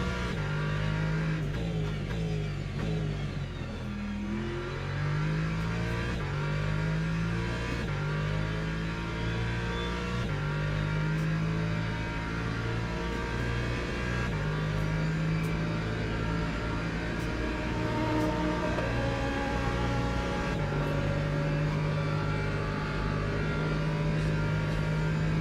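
Race car engines in a racing video game at Daytona or Laguna, with a BMW close behind, rev and drone continuously for the full stretch, pitch climbing and dropping through repeated gear shifts.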